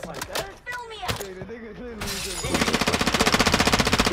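Video game gunfire: a few sharp shots early on under excited talking, then a steady, loud rattle of rapid automatic fire taking over for the last couple of seconds.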